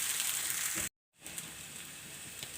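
Green chillies and potatoes frying in a pan, a steady broadband sizzle that cuts out briefly and then resumes, close and continuous with no talking.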